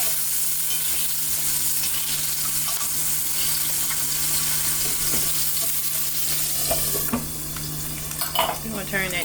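Breakfast food of eggs, sausages and pancakes frying in a pan, giving a loud, steady, dense sizzle throughout, with clattering stirs and scrapes near the end.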